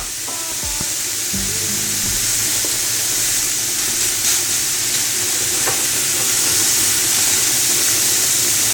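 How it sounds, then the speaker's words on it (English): Pineapple sizzling on a grill: a loud, steady, close hiss of frying runs throughout, with a few brief clinks and low tonal hums near the start. "While the pineapple is on the grill"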